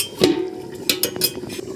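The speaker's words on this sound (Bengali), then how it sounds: "আমি 2 মিনিট ঢাকনা চাপা দিয়ে দেব" A metal lid clanks onto a pot of fish-head curry made with catla head, giving one sharp clink followed by a few lighter rattles as it settles. The sounds are close and there is no speech.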